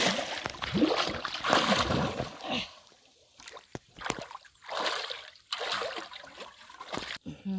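Water splashed by hand in a home fish pond: repeated close bursts of sloshing and splattering that come in uneven waves separated by brief lulls, with faint voices at times.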